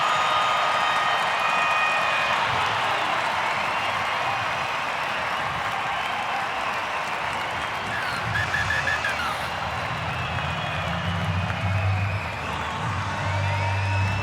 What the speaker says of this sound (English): Have a listen to this crowd now.